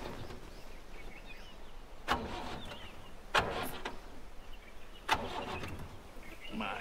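A car is heard in a dramatic film scene: three sharp, loud thumps or clunks stand out over a steady broadband hiss, with no one speaking.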